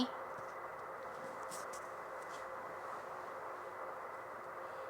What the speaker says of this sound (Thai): นะเสียงเครื่องยนต์มาแล้ว